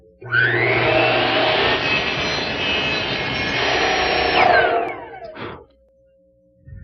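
A loud power saw whines steadily for several seconds while cutting off a wooden clip for a side table, then winds down, followed by a brief clatter.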